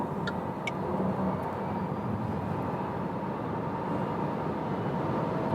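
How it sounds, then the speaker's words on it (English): A Renault Megane E-Tech electric car accelerating toward top speed on a German Autobahn, heard from inside as a steady, loud broadband road and wind roar with no speech. "Let's accelerate to top speed."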